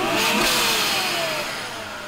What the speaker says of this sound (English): Gonna give us a start and some revs.